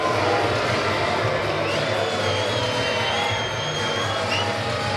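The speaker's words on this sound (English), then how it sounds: "The crowd, as you can hear, does not believe it either." A vocal arena crowd at a mixed martial arts event at the Orleans Arena in Las Vegas roars in a dense, sustained wash of cheering and shouting, with a commentator's voice running underneath.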